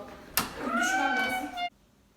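A single drawn-out cat meow, close and clear, rising and then cutting off abruptly after a sharp knock at the start.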